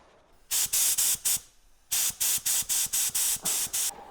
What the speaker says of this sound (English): this is gonna be my first time spraying out of a gun by myself, unsupervised